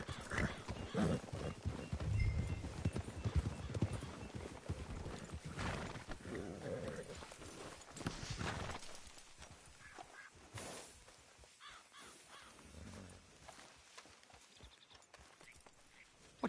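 Horse hooves clip-clop along at a steady walking pace in Red Dead Redemption 2, with an occasional whinny and some background noise, fading quieter toward the end.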